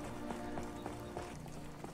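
A horse's hooves clip-clop in an even, quick rhythm in the virtual-reality game Skyrim VR, faint and brief against a steady ambient background.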